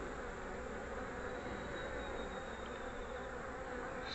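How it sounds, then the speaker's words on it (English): Honey bees buzz inside a hive box with a second deep added, a constant close drone with no talking and a faint thin whine passing through midway. "there's a lot of bees into the second deep"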